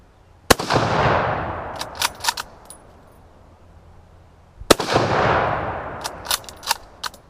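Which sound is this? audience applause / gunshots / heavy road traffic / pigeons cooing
gunshots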